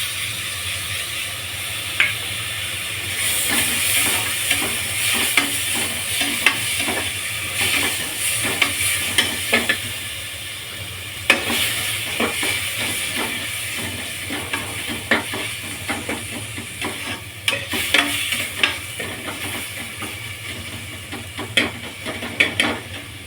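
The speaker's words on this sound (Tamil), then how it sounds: "இப்போ வந்து இஞ்சி பூண்டு பேஸ்ட்டு போட்டுடலாம்" Ginger garlic paste fries in a pan for a one-pot spinach biryani while a spoon stirs it: steady sizzling under repeated scraping clicks that come in irregular bursts for over twenty seconds.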